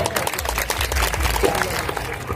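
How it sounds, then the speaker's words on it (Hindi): Applause from a crowd at a World Indigenous Peoples' Day speech event, a dense patter of many hands clapping steadily, mixed with voices and a hum of amplified sound underneath. "इसलिए मैं इनके परिवार को भी एक बार तालियों से आप सम्मानित करें।"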